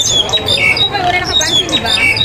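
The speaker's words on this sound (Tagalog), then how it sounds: "Pinantahan ako ng ibon." Shrill bird squawks repeat in quick bursts close by, with a person talking underneath.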